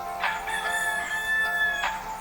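A rooster crows just after 6 a.m. before sunrise, a drawn-out tonal call at moderate distance, framed by short clucks from chickens nearby in an otherwise quiet backyard.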